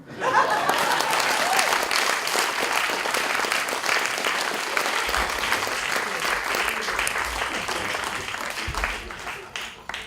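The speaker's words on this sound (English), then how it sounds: "I like it when people clap before I've ever even done anything." Audience applause following a reading of Shakespeare sonnets, a dense, steady wash of clapping from a crowd that stays loud for about ten seconds, with a few light laughs mixed in.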